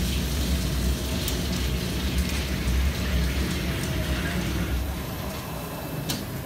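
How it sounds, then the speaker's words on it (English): A FlexCNC G-Series machining center plunges a drill 1-11/32 inch wide and 2 inches deep into steel, fed by high-pressure through-spindle coolant. The result is a loud, steady, dense grinding hiss with a low rumble that holds throughout. "we're going to be plunging through this steel, 2 inches deep, inch and 11/32 hole"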